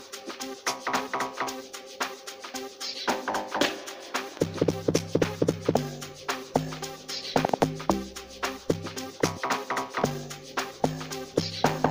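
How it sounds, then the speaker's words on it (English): An amapiano clank bass log drum programmed in FL Studio Mobile for a sgija-style beat hits in a loud, steady rhythmic pattern of punchy, pitched bass notes with sharp metallic attacks, layered over percussion throughout. "this is how the clank bass sounds like"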